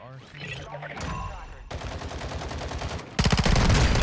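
Gunfire in Call of Duty Warzone on Ashika Island: rapid automatic bursts, crackling and close, building to a loud, dense rattle of fire at the end.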